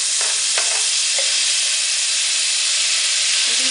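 Minced garlic, a couple of tablespoons, sizzles steadily in hot melted butter, a close, continuous frying hiss with a few brief stirring clicks and no talk.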